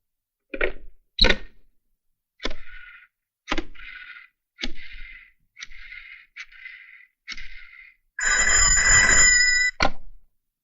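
A telephone rings in a series of short bursts separated by pauses, ending with a longer, louder sustained ring before stopping.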